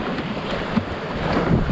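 Wind and waves around a sailboat sailing solo across the Baltic Sea: a loud, continuous rush of wind buffeting the microphone over churning water, with a brief splash partway through.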